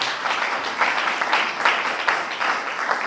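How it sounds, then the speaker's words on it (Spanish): A church congregation applauds steadily throughout, a dense wash of clapping with no voices standing out. "Ofrende palmas, Señor, con todo el corazón."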